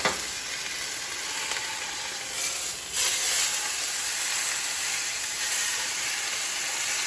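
A pot roast browns in a hot pan with a continuous, even sizzle and hiss, and a short swell of louder spitting a few seconds in.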